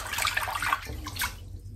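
A Headblade razor clogged with hair is rinsed under running tap water, making a close, splashy rush of water that fades out near the end.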